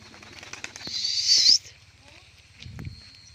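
Pigeon takes off with a burst of flapping wings lasting about a second, fairly close, over low background noise and faint outdoor sounds.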